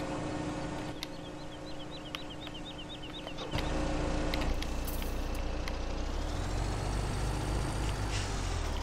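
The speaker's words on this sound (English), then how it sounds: "So I will need to come out, move the truck." A truck in Farming Simulator 17 beeps in a quick repeating pattern, then its engine rumbles louder and climbs in pitch as it moves off.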